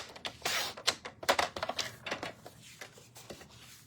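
Scissors snip through paper being trimmed to size for a handmade craft card, a quick run of sharp, close crisp cuts, quiet with no talk.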